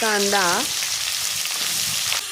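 Chopped onions, cumin, mustard seeds, garlic and curry leaves sizzle and fry loudly in hot oil, a dense continuous crackle close by, with a brief rising tone at the start.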